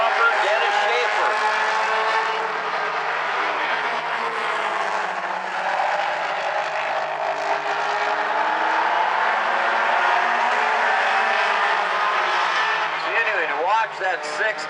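Mini stock race cars roar continuously around South Sound Speedway, engines whining loudly and overlapping as packs pass, with a commentator talking over the engine noise.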